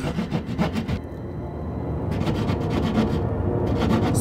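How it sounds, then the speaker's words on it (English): Rough scratching and rasping noises in a horror film trailer, close and fairly loud: rhythmic scraping strokes at first, then a denser continuous grinding rasp with further strokes returning near the end. "Scratching noises, yeah."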